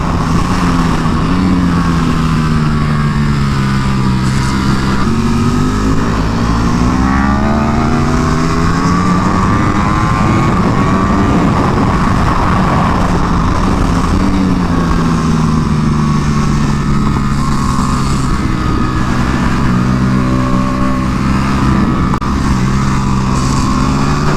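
A Ducati Panigale V4 R ridden hard around a race track, its engine loud and constant, rising and falling in pitch through repeated throttle sweeps and gear changes, heard close over steady wind rush with no talking.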